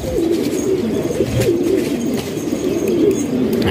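Pigeons cooing steadily in a low, rolling murmur, several birds overlapping close by, with faint chirps and rustling in the background.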